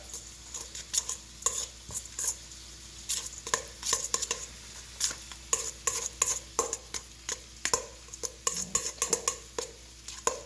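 A spoon repeatedly scrapes and clacks as a baked ziti mixture with mozzarella cheese is stirred in a bowl or pan, a steady close rhythm of short strokes without talk.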